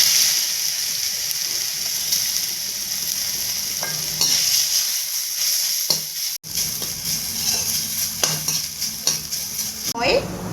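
Potatoes fry in refined oil in a kadai with a steady, close sizzling hiss, broken now and then by clinks of a stirring utensil against the pan.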